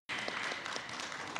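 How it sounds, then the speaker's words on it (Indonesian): An audience bursts into steady applause, many hands clapping together at a constant level throughout. "berikan tepuk tangan"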